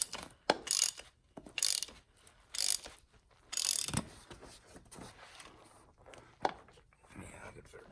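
A 26 mm nut cranked with vice grips to draw a bushing into a Volvo 850 T-5R rear subframe, heard as repeated close ratcheting and metallic clicks in irregular bursts, with quiet talk between the bursts.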